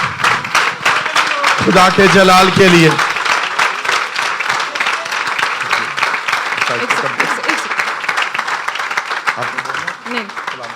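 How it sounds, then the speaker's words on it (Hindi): A church congregation at a Palm Sunday service breaks into loud, sustained applause that carries on for several seconds, with a voice speaking over it early on. "जोरदार तालियां"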